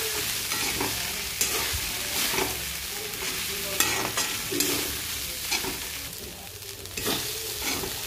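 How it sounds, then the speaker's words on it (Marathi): Poha stirred in a pan with freshly washed coriander, a steady scraping and stirring with a light sizzle underneath, continuous and fairly close, with no talking. "छान असं मिक्स करून घ्यायचं आहे पोहे"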